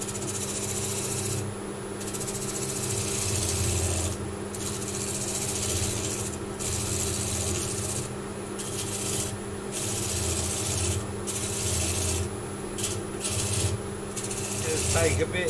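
A skew chisel cuts African blackwood spinning on a lathe, giving a steady scraping, rasping whir with a constant motor hum beneath and brief pauses between passes.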